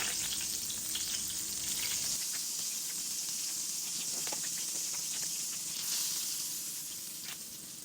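Fish fillets frying in a pan give a steady, close sizzle with dense crackling hiss and occasional sharper pops, holding level before easing slightly toward the end.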